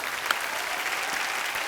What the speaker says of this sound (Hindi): इसके लिए जोरदार तालियां बनती हैं